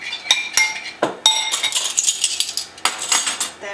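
A utensil stirring marinade ingredients, including cayenne, together in a bowl for portobello mushrooms, giving a close series of sharp, irregular clinks and scrapes against the bowl with no talking.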